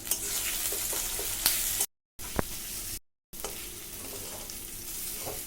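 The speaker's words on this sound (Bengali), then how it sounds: "আর আদা বাটা, কাঁচা লঙ্কা কুচি, এগুলোকে দিয়ে আমি এবার এটাকে ভালো করে কষিয়ে নেব" Ginger paste and chopped green chillies being sautéed in a pan for a prawn and banana-flower dish, a steady close sizzle broken by two brief cuts to silence, with a single sharp clink in between.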